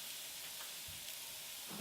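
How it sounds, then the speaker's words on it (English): Food sautéing in a pan at lunch prep alongside drained rice, a steady soft sizzle and hiss running quietly throughout with a couple of faint low knocks, no voices. "So while that's sauteing off"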